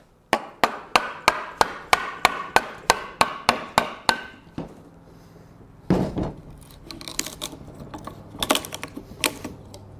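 Hammer blows fracturing chunks of metal while building an anvil swage block stand: about a dozen sharp, evenly spaced ringing strikes close by, then scattered clanks and scraping of loose pieces.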